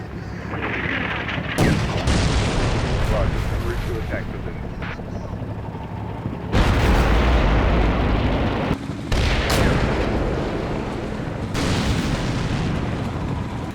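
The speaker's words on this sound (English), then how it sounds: "You can see the particles in the distant explosion." Distant explosions and artillery fire from the Combat Mission Black Sea war game, a dense rumbling barrage of booms and low blasts that swell at several points, continuous and fairly loud throughout.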